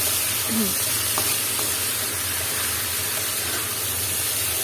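Pumpkin and other vegetables frying in a pan while being stirred, a loud steady sizzle with scraping from the spoon throughout.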